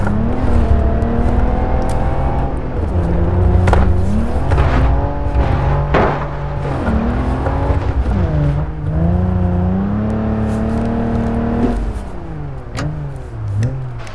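A 4x4 car engine in GTA 5 revs repeatedly while driving off-road on a badly damaged road, close and loud, its pitch rising and falling in surges with occasional knocks and thumps.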